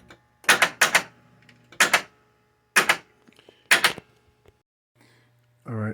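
A Star Wars pinball machine clicks and clatters in repeated sharp mechanical bursts, some doubled, spaced about a second apart, with a brief voice at the end.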